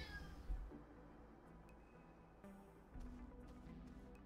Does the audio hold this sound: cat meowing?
yes